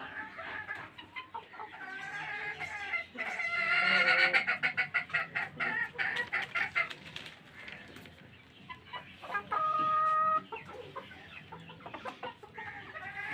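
Brahma, silkie, police cap and American bantam hens cluck and chatter close by on a fancy chicken farm, with busy overlapping calls, a short burst of louder squawking, and one sustained tonal call near the end.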